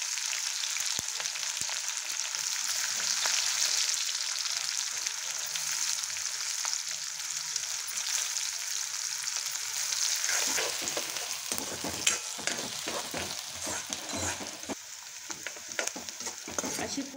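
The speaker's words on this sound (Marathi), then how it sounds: "छानपैकी तळल्या जातं हे तेलामध्ये" Onion and green chilli sizzle in hot oil for a tempering for a potato curry, a steady frying hiss with scattered crackles and stirring clicks growing busier toward the end, with no voices.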